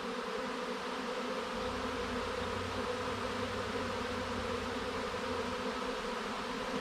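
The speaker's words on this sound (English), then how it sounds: "they are just burying that box with bees" A dense, steady buzzing drone of a honeybee swarm moving into a hive box in a bee shed, close by, continuous and even throughout, with no talking.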